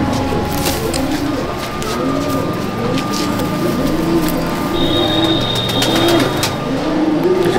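Pigeons coo in repeated soft, rolling calls inside a top-class pigeon loft in Chandannagar, Hooghly, over a steady background hum, with a thin whine partway through.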